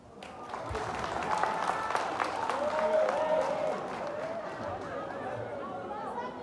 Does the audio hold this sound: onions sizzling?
no